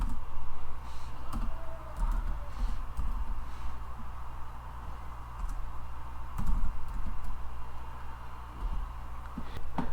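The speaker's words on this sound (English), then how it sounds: "So I'm gonna type in website bay." Someone types on a computer keyboard while building a WordPress site, with soft, irregular clicking keystrokes over a steady low background hum throughout.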